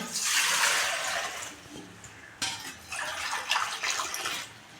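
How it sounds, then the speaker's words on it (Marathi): Water is poured by the bowlful into a cooking pot for sago, in two splashy pours with a short pause between them, close and fairly loud. "आपण तीन बाऊल पाणी टाकणार आहोत"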